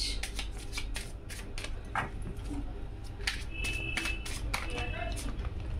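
Tarot cards are shuffled close by in quick repeated riffling bursts, crisp papery flicks in an uneven rhythm, with someone speaking softly over them.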